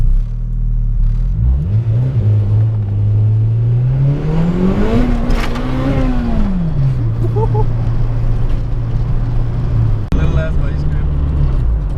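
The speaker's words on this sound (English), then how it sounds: "drive it so he can hear the bumper exit wastegate dump" A car fitted with a bumper-exit wastegate drives past, its engine rising and falling in pitch as the wastegate dumps with a loud whooshing flutter, with steady road and engine noise throughout.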